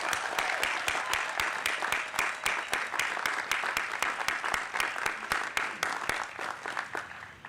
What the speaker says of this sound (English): Please join me in a round of applause for all of our honorary degree candidates.